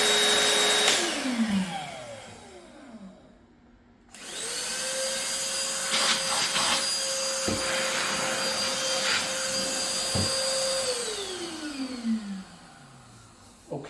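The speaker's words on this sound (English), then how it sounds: "We'll take a look at the suction on both of these." Ryobi PCL705 and PCL704 hand vacuums running one after the other: a short first whine spins down, a brief quiet gap follows, then a second motor whirs up and holds a steady high drone for about seven seconds before spinning down, with faint clicks.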